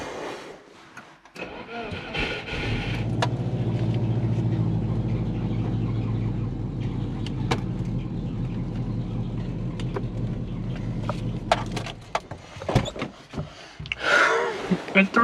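A Subaru engine, just swapped from automatic to a six-speed manual and running with no radiator, cranks and fires, then settles into a steady rumbling idle before rattling and shutting down.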